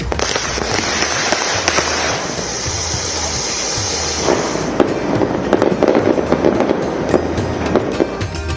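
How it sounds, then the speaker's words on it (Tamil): Firecrackers bursting in dense, continuous crackling volleys during Diwali celebrations, loud and close, with sharper pops in the later seconds. "பட்டாசுகள் வெடித்து மக்கள் உற்சாகமாக தீபாவளியை கொண்டாடினர்"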